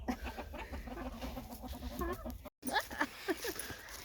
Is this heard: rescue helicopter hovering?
no